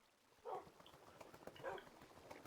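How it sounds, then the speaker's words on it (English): A dog in the Minecraft video game gives two faint, short yelps or whimpers about a second apart over quiet game background. "that was just a dog in the shadows."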